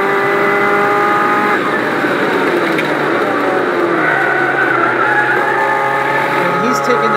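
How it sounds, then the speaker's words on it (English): The most powerful Abarth ever is driven hard on a track, its engine roaring loud and close without a break, with a strained, shrill edge from the tires as it corners. "the car's shaking very violently, and the tires are definitely screaming"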